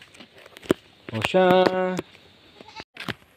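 A mother goat newly arrived on a farm gives one loud, quavering bleat at close range, set among scattered clicks and knocks, with a person speaking briefly afterward.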